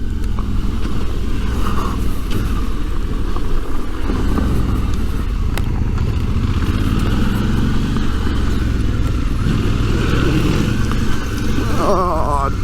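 A Suzuki V-Strom 650 motorcycle engine rumbles steadily nearby on an adventure ride, with a deep continuous drone that surges slightly toward the end; faint talk may sit beneath it.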